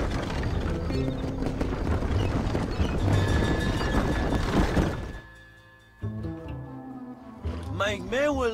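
Horses galloping and whinnying in the Red Dead Redemption video game, hooves pounding loudly beneath a dense music score for about five seconds, then fading as a rider speaks over quieter music.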